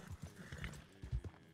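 A horse in a video game gallops with quick, uneven hoofbeats close by, and a short whinny rises partway through. A faint voice sits under the hooves.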